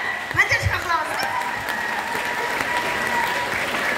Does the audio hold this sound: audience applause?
yes